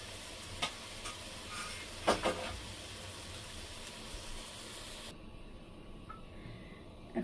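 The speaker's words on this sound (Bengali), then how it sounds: "এখন মরিচ, পেঁয়াজ আর এই যে তেল দিয়ে দিলাম" Green chilies and onions sizzle in hot oil in a pan, a steady close hiss with occasional soft stirring clatters, cutting out abruptly near the end.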